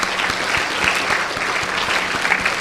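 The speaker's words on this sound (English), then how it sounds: "I think she deserves a big round of applause" Steady audience applause from a crowd at a school speech event, dense and even clapping sustained throughout with no talking over it.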